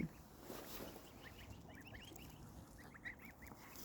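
Faint, high chirping honks from a small group of goslings, scattered short calls over a quiet outdoor background.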